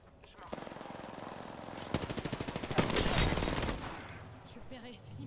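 Rapid bursts of gunfire from a Wingman pistol in an online shooter game, several quick cracking shots grouped in short volleys, with a player talking over parts of it.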